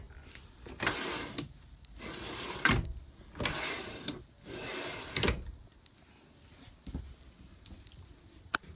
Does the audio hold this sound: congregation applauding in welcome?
no